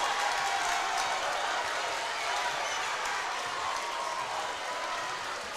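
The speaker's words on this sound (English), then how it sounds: "Listen to that crowd from across the floor" Home crowd cheering from across the floor of a high school gym as Okoboji closes out a basketball win over Spirit Lake; steady, dense roar of voices and scattered clapping, slightly distant and continuous throughout.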